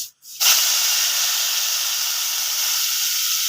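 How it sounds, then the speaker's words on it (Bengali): Ground onion paste drops into hot oil already seasoned with bay leaf and dried red chilli, and after a brief silence a loud, sudden hiss bursts out and holds steady and close. "এরপর পেস্ট করা পেঁয়াজ বাটা আমি দিয়ে দেব।"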